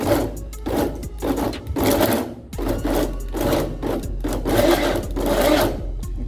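Mixer grinder pulsed in short bursts on ingredients for Kerala-style chicken nuggets, a loud close whirring grind starting and stopping in a steady repeating rhythm with no speech.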